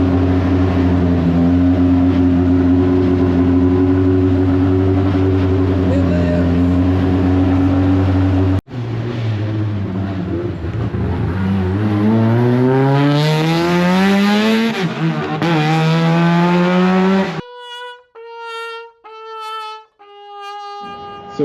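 The rebuilt Deep Orange 9 race car roars loudly up close, its engine droning and then climbing through the revs, followed by sharp, stuttering bursts of high-pitched mechanical tone near the end.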